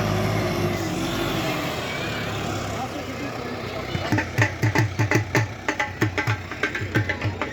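A Tumosan tractor works with a disc harrow. A steady engine drone gives way to a run of rhythmic, sharp metallic clanks in the second half, heard fairly close.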